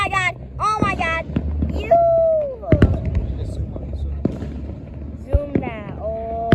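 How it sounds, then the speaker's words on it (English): Fourth of July fireworks in Bethlehem, Pennsylvania, in 2023: a few sharp, scattered booms and pops sound over steady outdoor rumble, mostly under the excited voices of adults and someone talking nearby. "Look at all these fireworks."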